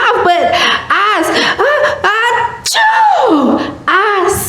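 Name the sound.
storyteller imitating a big sneeze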